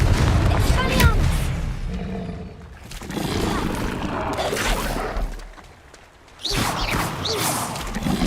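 Spell blasts and magic impacts from Hogwarts Legacy combat, several bursts and crashes in quick succession with a dense, loud background and a brief lull before another burst of effects.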